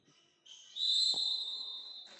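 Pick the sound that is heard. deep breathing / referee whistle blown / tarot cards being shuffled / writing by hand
referee whistle blown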